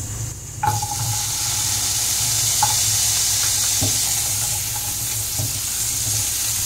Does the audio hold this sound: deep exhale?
no